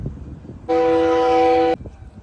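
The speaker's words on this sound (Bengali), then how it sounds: "এই যে এই বোটটা আসতেছে এজন্য হর্ন দিল" The tour boat Mini Ha-Ha on Lake George, New York, sounds one steady, loud horn blast of about a second over lakeside ambience with faint voices.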